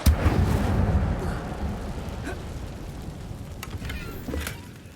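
An Incendio fire spell cast in Hogwarts Legacy, opening with a sharp burst that swells into a rushing, crackling flame sound and fades over a few seconds, with a few faint pops near the end.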